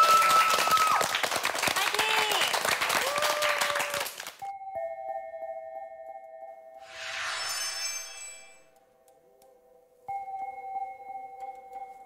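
Studio audience applause on a Korean television show, dense clapping for about four seconds that cuts off abruptly, followed by sustained electronic tones and a brief shimmering chime.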